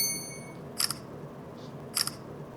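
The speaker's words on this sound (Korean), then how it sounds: "사진 하나 찍을게." A camera shutter fires twice, about a second apart, each a crisp close mechanical double click with a brief beep-like tone, over a quiet room background.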